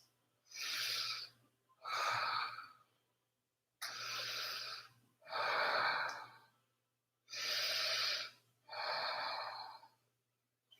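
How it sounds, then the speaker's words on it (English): Slow, audible Ujjayi yoga breathing with a soft ocean-like rasp from a gently constricted throat, six long breaths in even inhale-exhale pairs separated by short pauses, close and clear with a faint low hum beneath and no talking. "Maybe find your Ujjayi breath, slightly constricting the back of the throat, really hearing that ocean sound in your breath."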